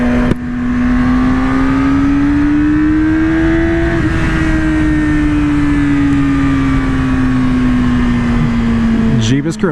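A Yamaha R6 motorcycle engine drones loudly and continuously while riding, its pitch climbing slightly and then easing back down, with voices around it.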